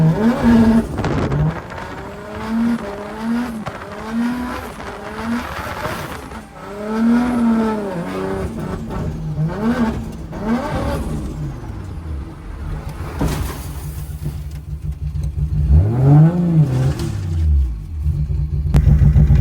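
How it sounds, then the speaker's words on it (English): A 1JZ-engined S13 drift car laps a wet track at an autumn drift event, its engine heard up close from inside, revving and falling off again and again in repeated sweeps that stay loud throughout. "This is my 4th lap now of wet weather driving."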